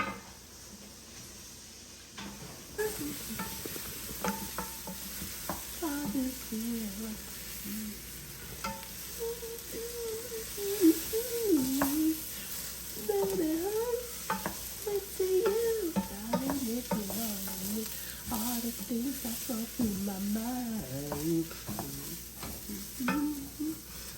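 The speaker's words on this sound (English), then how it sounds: "I'm stirring up the rice." Rice being stirred in a sizzling pot for a seafood and sausage jambalaya, a steady hiss and fry broken by scraping stirs, with people talking over it for much of the time.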